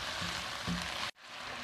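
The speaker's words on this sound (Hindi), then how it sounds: "अभी हम इसको अच्छी तरह भूनेंगे" A paste of ground yogurt, tomato, onion and chilli sizzling in a pan, a dense even frying hiss with a couple of soft stirring knocks, ending abruptly, then the sizzle quietly returning.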